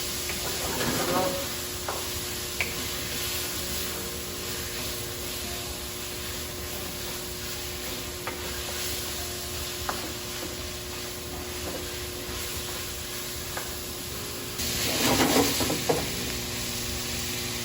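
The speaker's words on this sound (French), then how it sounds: "Je vais faire cuire mon curry un peu." Curry of lemongrass, garlic and ginger with tomato paste cooking in a pan, a steady soft sizzle with occasional stirring scrapes, busier near the start and end.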